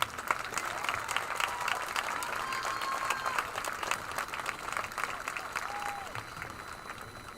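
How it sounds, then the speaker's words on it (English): Steady applause from a graduation crowd at a Batavia High School ceremony for the Class of 2023, sustained clapping throughout with a faint whistle-like tone early on. "Let's give them all a big round of applause."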